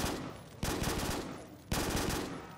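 A P90 submachine gun fires in a Call of Duty custom zombies map, two loud sustained bursts of rapid fire close up, each cutting in abruptly and trailing off, with no talking.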